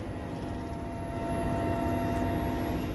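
An Air Force helicopter flies over a forest fire in the hills, a constant droning engine and rotor roar that holds steady throughout.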